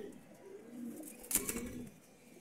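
A pigeon coos softly and briefly nearby, with a short rustle or flutter midway, over quiet background noise.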